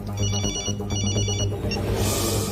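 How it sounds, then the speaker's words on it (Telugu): A telephone rings in repeated electronic pulses, left unanswered, in a Telugu film scene, fairly loud and close before a rushing burst of noise takes over near the end. "రింగ్ అవుతుంది కానీ ఎవరు ఎత్తట్లేదురా."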